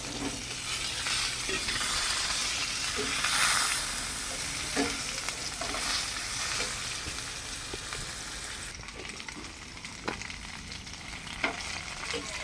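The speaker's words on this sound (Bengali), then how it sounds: "এবার আমি ঝিঙেগুলোকে এর মধ্যে দিয়ে দিচ্ছি।" Sliced ridge gourd hits hot oil already crackling with black cumin and green chili, giving a loud, dense sizzle that eases slightly as the pan is stirred, with occasional clinks and pops throughout.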